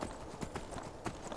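Horse hooves in the video game Skyrim clip-clop in a quick, steady gallop rhythm, close and clear over a faint background.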